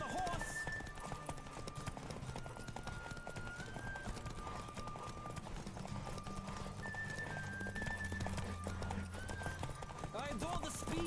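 Horse hooves clatter at a steady galloping clip in The Witcher 3, with a short whinny, over continuous game music and a voice talking.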